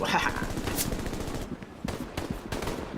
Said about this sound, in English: What are you firing, Rix? That's The M1A1. carbine.